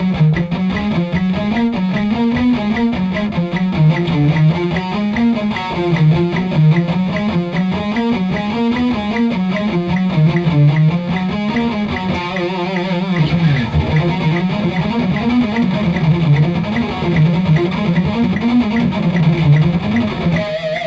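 Distorted electric guitar runs a fast metal shred passage descending in thirds, with only one string crossing, playing steadily and loudly on its own with no talk.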